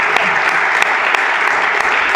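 Sustained applause from an audience at a folk music event, dense and steady throughout with a few sharper claps standing out near the front.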